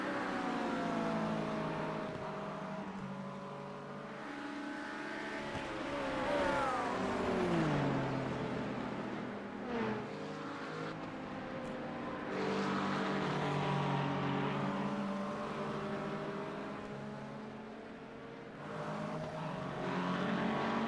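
An LMP2 prototype race car at Spa's 6-hour race roars past, its engine pitch sweeping down as it goes by, followed by more engine noise from other cars in the distance.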